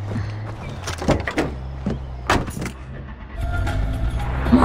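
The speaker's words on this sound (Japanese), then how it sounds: "車に乗って。" In Far Cry 4, a car door opens and shuts with clunks and rattles as a character climbs in, followed by a low engine rumble that rises toward the end.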